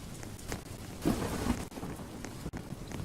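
Steady rain with a low rumble of thunder swelling near the middle, a continuous wet wash over about three seconds with no voices.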